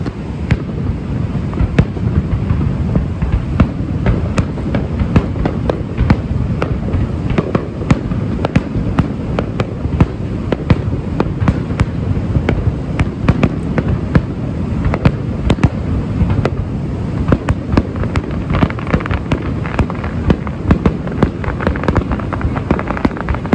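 Fireworks display at Niagara Falls: loud, dense bursts of booming and crackling explosions fire in rapid, continuous succession throughout, with no talking.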